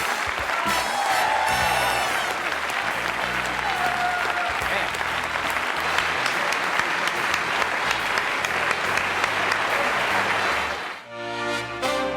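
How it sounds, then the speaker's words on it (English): A television studio audience on the Johnny Carson Show bursts into loud, sustained applause that keeps a dense steady roar of clapping for about eleven seconds before cutting off abruptly. "I'm humbled by that applause."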